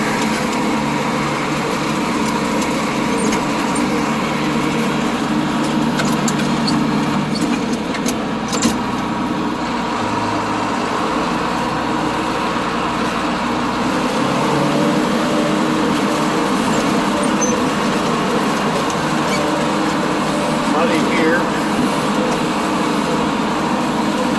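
A tractor drives through a cornfield in low gear, pulling a 15-foot brush hog through the last standing cornstalks. The engine keeps up a loud, steady drone with mower rumble and scattered snapping and crackling, and no one speaks.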